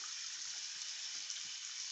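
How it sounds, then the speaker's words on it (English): Hot water pouring steadily from a tap into a sink drain, a constant close, even hiss of running water with no other sounds. "just turn on the hot"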